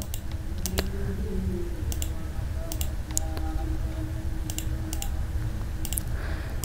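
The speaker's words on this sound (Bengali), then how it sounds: "জাস্ট এখানে পেস্ট করব, Ctrl+V, ওয়েট করব, দেন এন্টার হিট করব" A few sparse computer keyboard clicks, such as a Ctrl+V paste and an Enter press, tap out over a steady low hum, quiet and close with gaps between presses.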